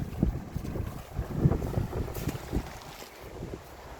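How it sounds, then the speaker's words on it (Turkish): Gusty wind buffets the microphone in a vegetable garden during a bean harvest, producing low rumbling blasts that swell and fade irregularly, with no talking. "Bayağı bir rüzgarlı hava."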